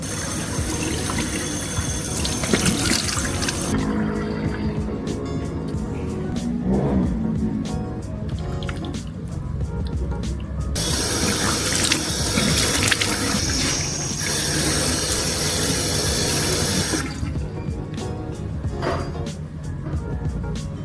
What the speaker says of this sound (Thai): จะต้องล้างหน้าก่อนนะคะ